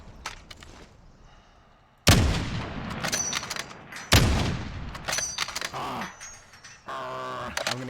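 Rifle shots from Call of Duty: Warzone ring out in two loud, booming reports roughly two seconds apart, each trailing off into a long echo, with quieter clattering game noise between and afterward.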